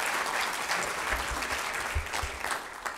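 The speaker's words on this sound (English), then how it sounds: "a round of applause." Applause fills a hall at a city awards program, many hands clapping in a dense, sustained roar at moderate distance.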